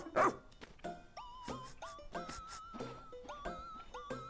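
A pup dog in the Pikmin 4 video game lets out a string of short yips and barks, a few whimpery squeaks mixed in, at an irregular quick rhythm, fairly faint and with no talk.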